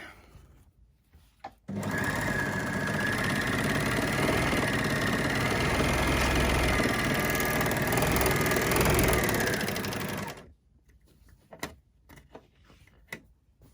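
An overlocker sewing straight across the base of a cosmetic bag, a loud steady mechanical whirr running for about nine seconds, with soft handling clicks before and after.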